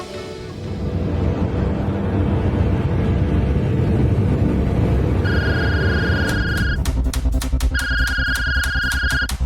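A phone rings in two bursts of repeated electronic tones over the steady rumble of a car moving along a rough road.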